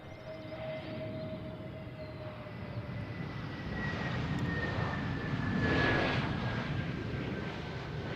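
A Brussels Airlines airliner passes at Brussels Airport, a steady distant jet roar with a whining engine tone that swells slightly and drifts, with no voices.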